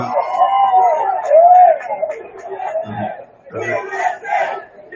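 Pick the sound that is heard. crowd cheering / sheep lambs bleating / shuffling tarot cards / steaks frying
crowd cheering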